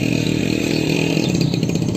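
A motorcycle rides through a flood-damaged street in Tarim, its engine running loud and close with a steady droning rumble and some rattling clatter throughout, with no talking.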